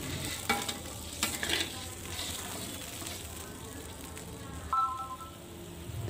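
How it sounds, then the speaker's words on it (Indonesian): Sauce for homemade sardines, with half a glass of water just added, is stirred in a frying pan, giving a soft steady sizzle with spoon scrapes and a few clinks, fairly faint, with brief talk at times. "lalu saya tambahkan setengah gelas air, kemudian saya aduk-aduk kembali semuanya."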